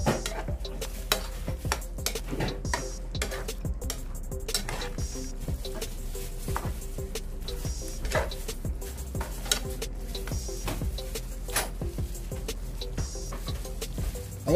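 A spoon stirs cream through chicken and mushrooms in a pan, scraping in a steady run of soft clinks and strokes over a low, constant sizzle for the whole stretch.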